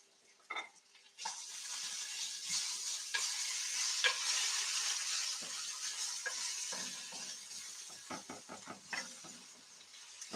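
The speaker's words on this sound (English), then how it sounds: "I'm just going to give my vegetables a stir quickly." Vegetables and onion are stirred in a frying pan, giving a steady close sizzle. Scraping strokes of the utensil come irregularly and grow quicker and denser toward the end. No one speaks.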